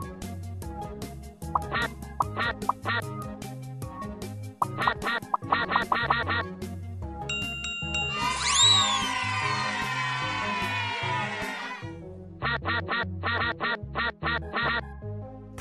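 Bursts of synthetic quacking repeat over playful music in the game Teach Your Monster to Read, broken midway by a shimmering chime flourish before the quacks return.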